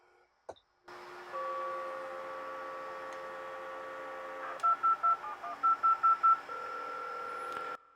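A dial-up modem dialing out with touch tones after an ATDT command: a steady dial tone, then a quick run of evenly spaced beeping keypad tones, followed by a sustained line tone, all clear and close with no speech.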